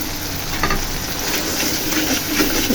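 Spiced mutton head cooking in a pan with turmeric, chili, coriander and salt, where added water sets off a steady, loud sizzle with faint stirring scrapes throughout, no talking.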